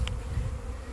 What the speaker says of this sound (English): We got a lovely cluster of bees here.